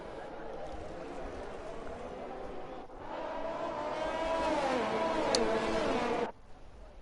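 Race cars on a formation lap in the F1 2021 video game at Spa, Belgium, give a steady engine drone that swells and rises in pitch midway, then cuts off abruptly near the end.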